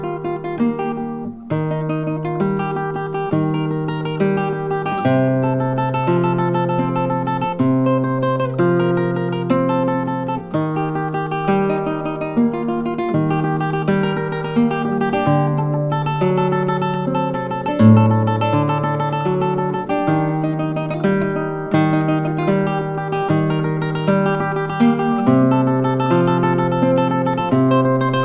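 Flamenco rumba guitar plays a tremolo passage, rapid repeated plucked notes over strummed chords with a steady rhythmic pulse, close and clear, with a brief spoken word at one point.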